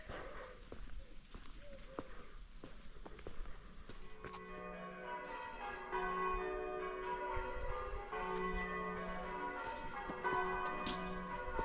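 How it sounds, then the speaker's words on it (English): Church bells in the village of Great Cheverill in Wiltshire ring out on the bell ringers' Tuesday practice night, a steady changing peal heard at a distance outdoors after quieter ambient sounds with faint thuds and taps. "the bells will go on and off. This is a Tuesday night and it's a practice night."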